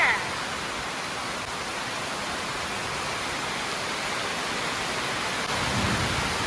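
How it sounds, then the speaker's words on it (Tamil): Heavy rain pours down steadily outdoors, a dense continuous hiss that stays loud and unbroken throughout. "இந்த மாதிரி மழை பெய்யுது"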